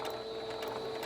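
A home sewing machine runs a steady, continuous whir with a faint rhythmic mechanical ticking while back stitching over an elastic strap on a fabric medical mask, close and alone without any voices.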